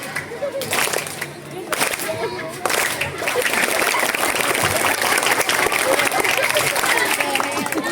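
Schoolchildren clapping at an Isra Mi'raj school event, scattered claps at first that build into a loud, dense run of group clapping, with a voice talking over the start.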